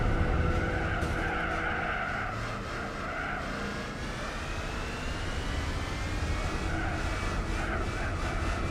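A Chrysler Crossfire races in Gran Turismo 4, its engine droning steadily with sustained tire squeal and skidding noise, a continuous close mix of engine and rubber with no talk.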